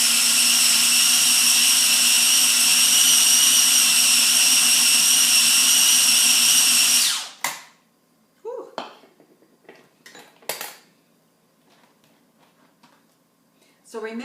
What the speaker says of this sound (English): Then I'm going to blend it up.